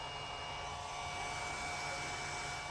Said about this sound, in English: It's got a built-in fan to keep it cool, as you can hear.